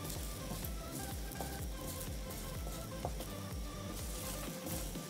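Pumpkin seeds frying in a pan give off a steady, dense sizzle with soft crackles and faint stirring scrapes. The sound is continuous and close, with no speech.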